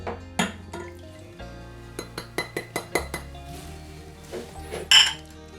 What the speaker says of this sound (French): dans ma casserole, je transfère mon sucre